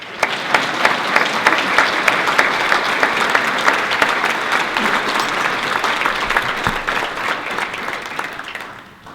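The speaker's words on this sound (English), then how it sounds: "Let's do the applause here." A banquet audience at an anniversary dinner applauds steadily, dense sustained clapping from a full room that holds for about nine seconds before tapering off.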